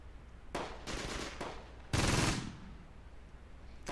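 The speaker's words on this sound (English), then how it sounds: "Seems they're still firing at something." Gunfire in the WWII game Close Combat: Gateway to Caen: several short bursts of machine-gun fire, with the loudest burst in the middle fading into a brief rumbling tail.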